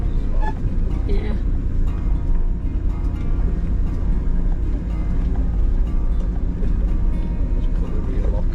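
A 4x4 off-road vehicle engine labours in low gear with the rear locker engaged, crawling up a very steep track of loose chippings and stones; a steady, close, droning rumble continues throughout.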